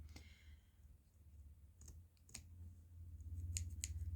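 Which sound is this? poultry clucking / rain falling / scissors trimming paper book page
scissors trimming paper book page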